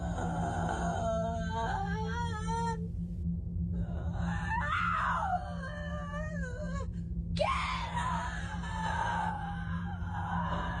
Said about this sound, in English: it sounds disturbingly like screaming, as if someone is crying out in terror or intense pain